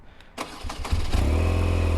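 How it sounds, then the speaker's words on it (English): A BMW R 12 G/S boxer twin motorcycle engine starts with a few sputtering catches, then settles into a steady, loud, throbbing idle close by. "I love this Boxer twin engine."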